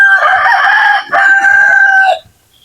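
A native rooster crows loud and close in one long, two-part call with a brief break in the middle, then stops, with no talking.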